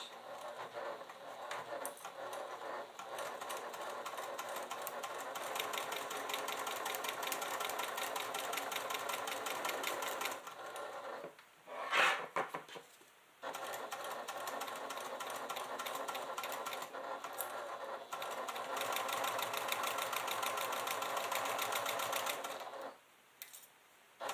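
Sewing machine stitching a seam with a short back stitch on a quilted leather clutch, a rapid steady whirring chatter in long runs broken by brief pauses, close and alone.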